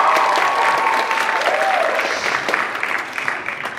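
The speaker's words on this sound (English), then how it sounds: "Round of applause for that." An audience at a university drag show in an auditorium applauds steadily, a loud, dense wash of clapping with some cheering that carries through the whole stretch and tapers slightly toward the end.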